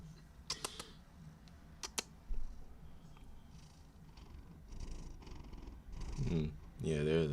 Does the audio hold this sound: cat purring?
yes